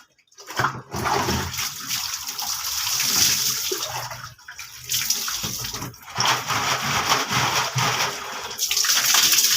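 Water runs and splashes steadily while items scrubbed with Surf detergent are rinsed, a loud continuous flow broken by a few brief pauses and surges.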